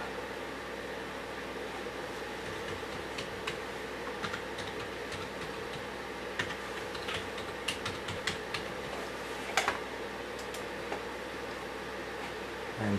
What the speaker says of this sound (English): Type in the username.